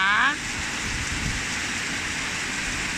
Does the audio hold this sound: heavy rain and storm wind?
yes